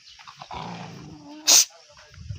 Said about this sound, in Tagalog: yung aso nagalit